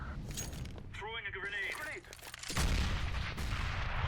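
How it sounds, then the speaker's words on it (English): A grenade is thrown in the Counter-Strike: Global Offensive video game, with a loud blast and crackling gunfire. Game voices and effects precede it, and a louder burst of noise follows midway. "Throws a nade over by the van. It didn't do any damage, but it was a solid nade."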